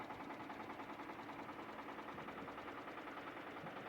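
A Shifeng 354 mini tractor engine runs steadily in a field, giving a continuous, even mechanical drone with a faint rhythmic knock throughout and no talking.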